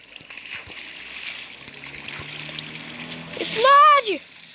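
Water splashing in the Minecraft video game, a steady watery wash with a louder splashing burst near the end, heard under a child's speech.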